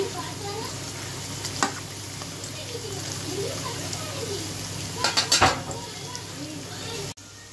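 Chicken frying in a pan gives a continuous close sizzle, with a brief cluster of sharp metallic clinks partway through and a soft stirring sound beneath.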